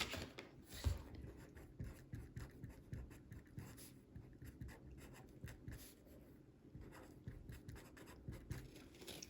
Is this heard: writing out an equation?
yes